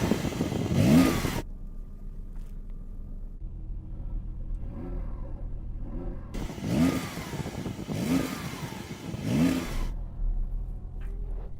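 A Porsche 911 Turbo S engine revs sharply several times while stationary, each burst rising and falling between quieter idling, loud and close.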